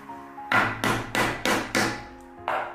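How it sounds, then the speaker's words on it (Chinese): A large piece of fresh ginger is smashed with a knife, giving five sharp thwacks in a steady rhythm, a short pause, then one more. "准备一大块生姜，先给它拍一下"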